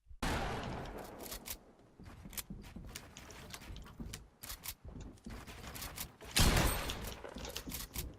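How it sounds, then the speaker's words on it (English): Gunfire in a Fortnite creative 1v1 match, with loud rapid shots and bursts crackling throughout, dense and close, and a heavy blast near the end. "They just shot me from a build"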